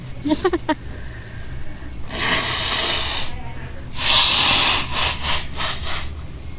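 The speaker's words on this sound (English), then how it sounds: "I wanna blow my nose before we start" A person with a cold blows their nose in a few loud, close, breathy bursts, with a long forceful honk followed by several shorter blasts and a short sniffle before them.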